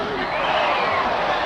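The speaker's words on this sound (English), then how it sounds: "Mighty big crowd sitting there watching them." A big crowd watches a rough game between 22 men, giving a steady, dense roar of many voices throughout, with no distinct cheers standing out.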